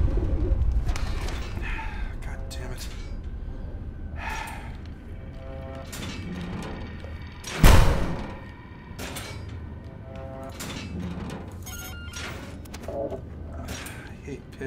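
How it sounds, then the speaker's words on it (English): Pigeons cooing in the video game Observer, repeated soft calls over a game ambience, broken by one loud sharp bang partway through, with voices talking at times. "Ah, man, pigeons!"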